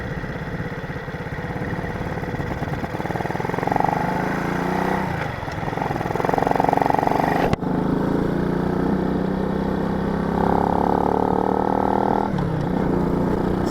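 A Honda C90 motorcycle engine pulls away from close by, its pitch climbing as it revs through the gears. Brief dips mark each shift before the drone settles into steady riding.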